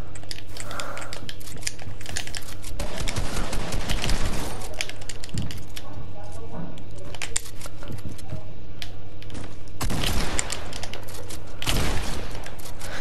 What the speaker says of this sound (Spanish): Chuto los tiros para la Jessie.